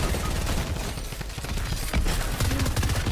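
Rapid bursts of gunfire from teams fighting in a video game, dense crackling shots rattling continuously with a few louder cracks, heard at a moderate distance without talk.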